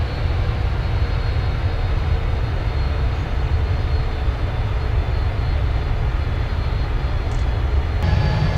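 Simulated Boeing 747-400 engines in Flight Simulator X hold a steady, loud low roar while the jet taxis, constant and unbroken with no talk.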